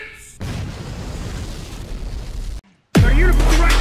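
Explosions in The Last of Us game: a sustained rumbling blast with debris noise, a sudden drop to near silence, then another loud, heavy boom up close.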